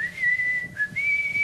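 A man whistles one steady, high tone in imitation of a bus conductor, holding it with a brief dip and a slight pitch jump partway through.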